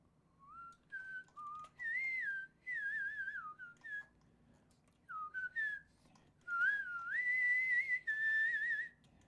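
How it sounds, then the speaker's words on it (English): A person whistles a wavering, melodic tune in several separate phrases, clear and close against a quiet background. "Jealous of the whistles?"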